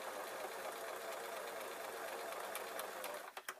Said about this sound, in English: I'm just going to sew this up